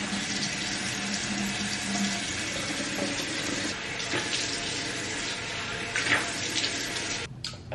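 Tap water runs steadily into a sink while a face is washed with a cleanser, splashes and hand rubbing breaking through the constant flow, close and fairly quiet.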